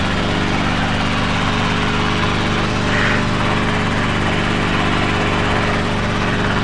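Training helicopter holding a hover with low rotor RPM, engine and rotor drone loud, steady and close throughout, with no voices.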